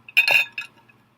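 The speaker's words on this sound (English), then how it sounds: "That was my straw in my water glass" A plastic straw clinks against ice in a water glass, a quick cluster of bright chinks and rattles followed by a fainter tap, close and alone in a quiet room.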